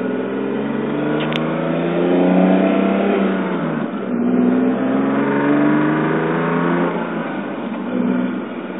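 A 1986 Toyota Supra driving down a street, its engine droning loudly and steadily up close from inside, rising and falling in pitch as it accelerates and shifts.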